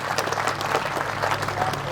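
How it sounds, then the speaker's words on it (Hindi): A rally crowd claps steadily and loudly to welcome a politician at a Samajwadi Party cycle yatra, dense continuous applause with a murmur of voices underneath. "अनुराग भदौरिया जी का एक बार हाथ खड़े करके जोरदार से उनके लिए ताली बजा के स्वागत करें"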